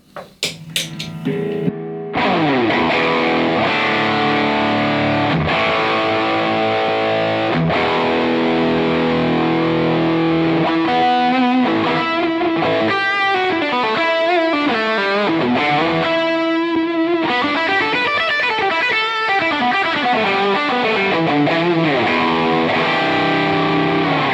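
Distorted electric guitar riffing with a thick, driven tone, sustained and loud after a brief opening strum, with no voices.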